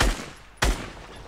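Two sharp gunshots in Fortnite, loud and close, spaced just over half a second apart, each decaying quickly.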